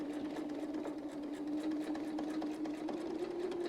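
A sewing machine stitches a rotating mandala quilting pattern, running as a steady, close, continuous whirring hum with a faint rapid needle pulse throughout.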